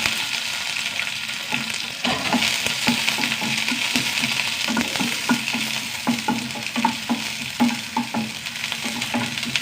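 Small onions fry in hot oil with dried red chillies, curry leaves and mustard seeds, a loud close sizzle broken by a steady run of scraping and clicking stirring strokes.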